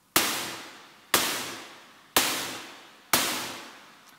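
A Jomox Airbase 99 snare drum layered with a Hypersynth Xenophone synthesizer snare sounds as four evenly spaced, loud, crisp noise bursts about a second apart, each ringing out in a long fading wash, with no voices.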